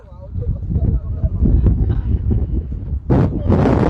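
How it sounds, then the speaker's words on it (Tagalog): Strong wind gusting across the microphone outdoors where cyclists are riding in Saudi Arabia, a heavy low rumble with loud bursts near the end, under a speaking voice and laughter. "Ang lakas kasi ng hangin. Ang lakas ng hangin mga kajuit."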